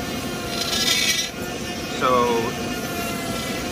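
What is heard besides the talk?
Ryobi brushless rotary tool running at high RPM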